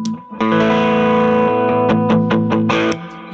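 An electric guitar run through a Fulltone OCD overdrive distortion pedal rings out alone with thick, gritty distorted chords, sustained and loud, with a few sharper strummed accents near the end.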